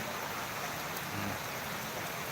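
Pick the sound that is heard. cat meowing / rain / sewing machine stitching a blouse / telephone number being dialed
rain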